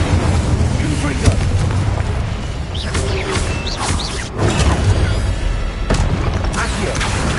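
The Confringo explosion spell and other spellcasting in Hogwarts Legacy on PS5 bring loud booming blasts and whooshes over a dense, continuous game soundscape, with voices speaking throughout.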